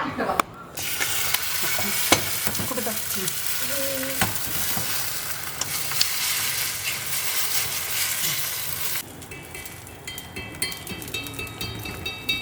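Food for dinner fries in a pan with a loud, continuous sizzle and occasional clinks of a utensil, while faint background music plays; the sizzle drops away abruptly near the end.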